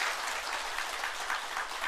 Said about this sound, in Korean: 여러분 박수 부탁드릴게요.